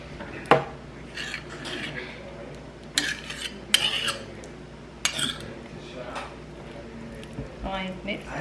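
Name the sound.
pot and utensils clattering while getting noodles out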